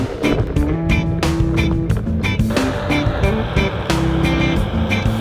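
A Onewheel electric board rolls along a city street at speed, a steady rumbling road noise with a faint motor whine and wind buffeting, close and fairly loud throughout.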